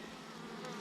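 A swarm of honey bees clustered on a tree branch gives off a dense, steady buzzing hum, close and fairly quiet, in a brief burst with no voices.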